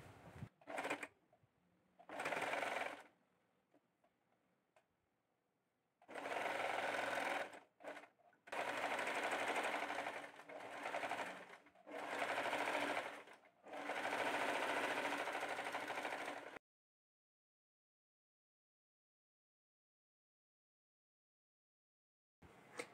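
Sewing machine stitching thread piping onto a churidar neckline, several loud whirring bursts of rapid stitching separated by brief pauses, ending in silence.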